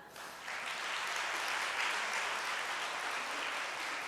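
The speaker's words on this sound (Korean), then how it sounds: "박수 한번 쳐주세요" A Korean church congregation at a Friday prayer gathering breaks into a dense, steady round of applause that swells quickly and holds evenly to the end.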